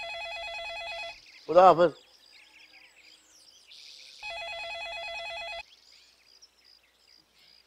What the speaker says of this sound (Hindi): ओ नालायक, फोन उठाओ।